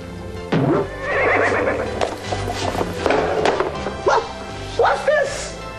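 A horse neighs and whinnies in several loud, shrill bursts, with shorter calls following after brief pauses.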